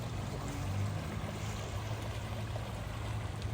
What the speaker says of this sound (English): So our river here does have a little more water in it today